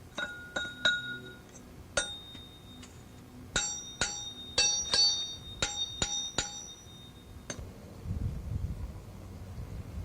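A gold-bearing hard rock ore sample is crushed by hand for panning. Sharp, bright metallic clinks and knocks strike at irregular intervals, close and fairly loud, with a low rumble near the end.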